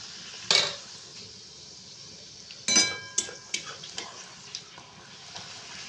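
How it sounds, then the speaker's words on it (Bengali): Wheat-flour luchi frying in oil over a lit clay stove: short bursts of sizzling as the dough hits and puffs in the oil, followed by light metallic clinks and taps from the pan and utensils. "একটু লুচি ভেজে নিচ্ছি"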